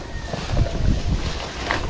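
Gusty wind buffets the microphone in low rumbling bursts, with a boat-like drone and open-water ambience behind it.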